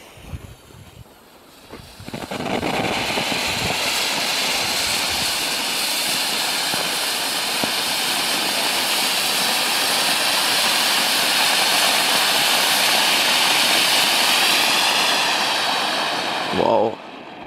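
A Vesuv fountain firework burns on New Year's Eve with a loud, continuous roaring hiss that holds steady for about fifteen seconds and then cuts off abruptly, with faint voices around it.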